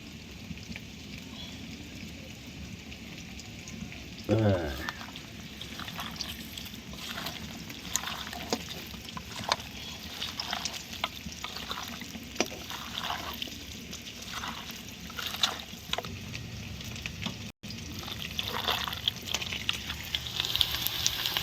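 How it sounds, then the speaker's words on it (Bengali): Potatoes frying in mustard oil at a village cooking spot, a steady soft sizzle with faint crackle running throughout, plus a few scrapes and knocks from the pan and one louder clatter early on. "এদিকে আলু কষা চলছে"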